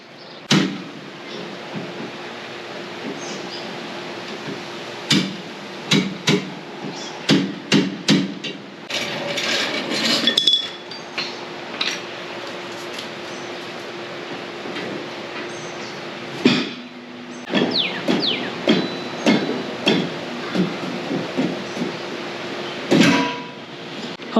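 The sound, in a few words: pulling bolts out to remove Jeep TJ axle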